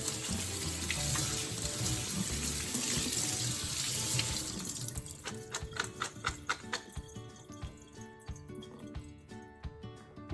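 Running tap water splashes steadily into a sink while nuts are rinsed, then the flow stops and scattered drips and small rattling clinks follow.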